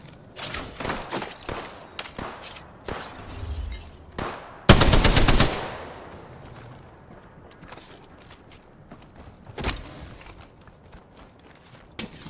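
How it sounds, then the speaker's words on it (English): Light machine gun fire in a video game: sustained automatic bursts, with one long, loud, dense volley mid-way among shorter shots, scattered footsteps and thuds, and little talk. "Love me an LMG."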